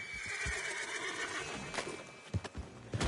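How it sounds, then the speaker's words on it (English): A horse in Red Dead Redemption 2 whinnies over a steady game ambience, with scattered hoof clip-clops and thumps near the end, no talking. "And this here is Old Father Time, my favorite horse."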